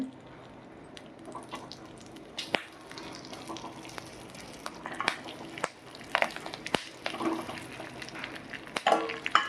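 Capsicums stuffed with roasted gram (putnala pappu) fry in oil in a pan on medium heat, a faint steady sizzle broken by scattered clinks and scrapes of stirring.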